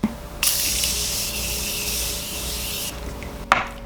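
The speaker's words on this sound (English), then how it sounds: "I like to spray my face." Face setting spray misted from a bottle in one steady hiss lasting a few seconds, close and fairly loud, ending with a small click or tap.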